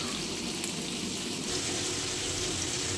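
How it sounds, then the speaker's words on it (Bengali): Eggplant, pointed gourd, radish and potato slices fry in hot oil in a village kitchen, giving a steady, close sizzle that runs unbroken and evenly loud. "এখন হচ্ছে বেগুন ভাজা, পটল ভাজা, মূলো ভাজা, আলু ভাজা"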